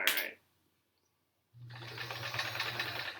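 A sewing machine stitching rows of a Triangle Tango quilt, a brief burst cut short, a second of silence, then a steady close motor whir with a rapid needle rhythm running to the end.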